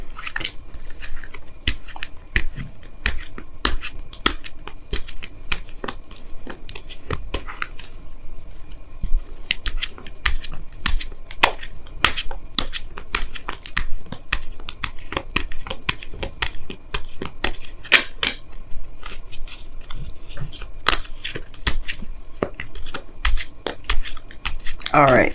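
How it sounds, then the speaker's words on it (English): Oracle cards are shuffled for a tarot reading, producing a long run of crisp, irregular clicks and riffling snaps that continue steadily and close-up for the whole stretch. "Let me go ahead and pull you guys your Wisdom of the Oracle card for the week."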